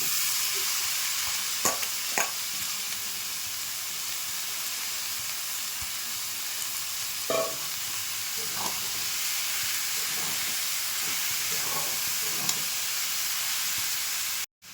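Banana flower dropped into a pan of cooked-down spice paste with turmeric, frying with a steady close sizzle and hiss, broken by occasional scrapes and clinks of stirring.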